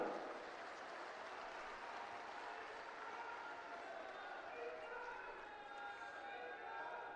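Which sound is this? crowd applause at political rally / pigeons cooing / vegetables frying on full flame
crowd applause at political rally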